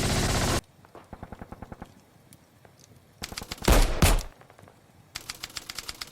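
Machine gun fire as a sound effect in a cinematic Bolt Action tabletop wargame battle report, with several loud rapid bursts of automatic gunfire separated by short gaps.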